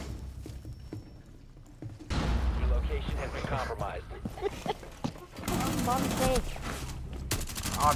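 Gunfire in Rainbow Six Siege: a burst of loud shots cracks out near the end of a round, with dense in-game noise and someone speaking between and over the bursts.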